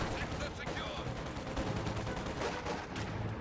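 Rapid MG42 machine gun bursts in a World War II strategy game, dense and continuous under a busy battle din of other gunfire, with someone commentating over it.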